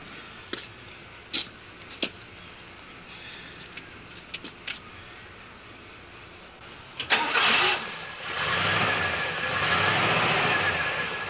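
A car engine cranks and catches after quiet moments of faint clicks and crickets, then settles into a steady running idle that lasts to the end, close by and fairly loud.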